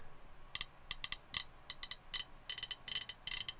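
Click tracks transferred from a Fostex VF16, played back together before being aligned: quiet, sharp ticks landing slightly apart in uneven doubled clusters, like a stuttering metronome, over faint background hiss.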